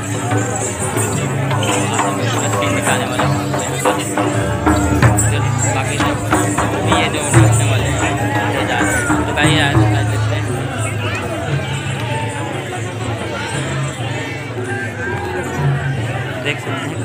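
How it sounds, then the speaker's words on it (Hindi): Dense, steady crowd babble at a Karma dance competition in Bandhanpur, with many voices overlapping continuously at close range and no pauses throughout. "गाइस काफ़ी भीड़ है"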